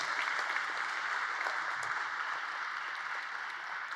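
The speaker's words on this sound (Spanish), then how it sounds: "Vamos a darle un aplauso al Rey de Reyes y al Señor de Señores." Steady applause from a church congregation praising God, a dense even patter of clapping that holds for the whole stretch without any talk.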